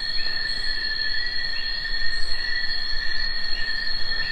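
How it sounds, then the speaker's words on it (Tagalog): Dense, continuous chirping of many crickets in a forest fills the air with a high, steady trill, loud and unbroken, with no voices. "puro kuliglig yung maririnig ninyo"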